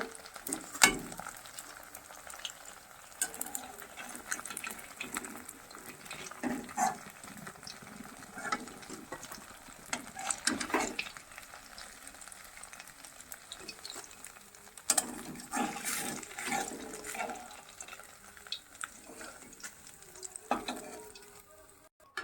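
Potato pieces frying in hot oil, a soft continuous sizzle with intermittent scrapes and clinks of a utensil stirring the pan, fairly quiet and close, with no talking.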